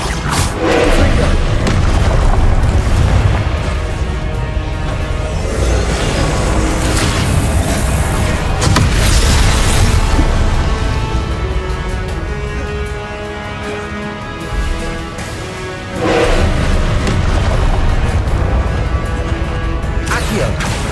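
Confringo blasting-spell explosions in Hogwarts Legacy, heavy booming blasts that roll on in long loud stretches with sharp bursts breaking through, mixed with game effects and a voice calling out spells.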